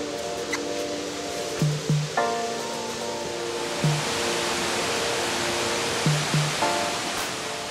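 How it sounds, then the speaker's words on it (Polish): Loud, steady rush of the Prowcza stream cascading over rocks in Poland's Bieszczady, swollen by rainy weather, a continuous roar with faint tonal beeps on top. "Jeszcze kilka ujęć kaskad na potoku Prowcza, które ze względu na deszczową pogodę są wyjątkowo wartkie i głośne."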